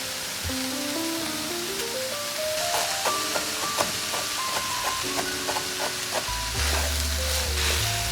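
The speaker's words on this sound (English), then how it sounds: "So I'm just mixing it a little bit to make sure that all of our seasoning went through to every area of our meat and vegetable mixture." Seasoned meat and vegetable mixture for stuffed pepper soup stirred in a pot, giving a steady broad sizzle with soft scraping throughout, under background music with rising tones and no talk.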